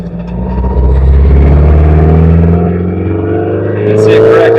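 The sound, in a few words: car with Red-E Motorsports EFI engine driving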